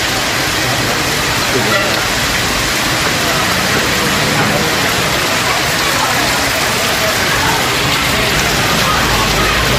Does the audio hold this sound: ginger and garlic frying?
no